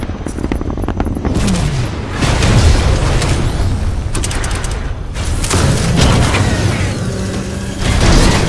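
Titan dropping into battle in Titanfall 2 gameplay: dense, loud mechanical clanking and booming impacts with bursts of gunfire-like crackle, a continuous heavy roar throughout with swells near the middle and end.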